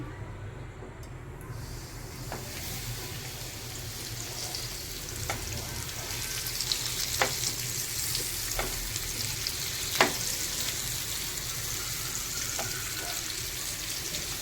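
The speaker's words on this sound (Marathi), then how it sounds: "आता यामध्ये तेल गरम झालेलं आहे तव्यातलं आता मी आपला मासा ठेवून घेते" Semolina-coated river fish sizzles in hot oil on a flat pan, a steady, fairly quiet frying hiss with occasional sharp pops and crackles, no voices.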